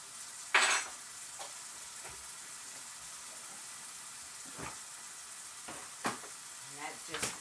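Minced garlic frying in a hot pan, a low constant sizzle under a few clinks and scrapes of a utensil against the cookware, one sharp clatter near the start, with faint background murmur.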